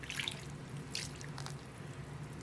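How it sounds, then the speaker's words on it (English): Water poured steadily onto worm bin bedding to saturate it, giving a continuous soft trickle and splashing with a few brighter spattering bursts, close and fairly quiet throughout. "we're going to add some water here and really kind of saturate this a little bit"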